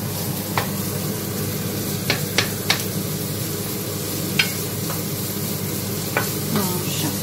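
Spinach with ham sizzles steadily in a frying pan, with occasional scraping clicks of a utensil stirring through, close and continuous without talk.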